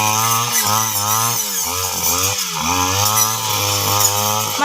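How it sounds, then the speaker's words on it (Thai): A motorized grass trimmer cuts tall elephant grass regrowing from old stumps on a farm in Surin, Thailand, its engine droning steadily and loudly with brief dips in pitch as it bites into the stems. "ต้องใช้เครื่องตัดหญ้ามาเนาะ"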